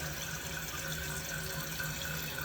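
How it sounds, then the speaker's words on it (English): A toilet tank refills with water after a fill valve repair, giving a steady, even rush of running water that holds at a constant level throughout with no breaks. "now the toilet's filling back up again"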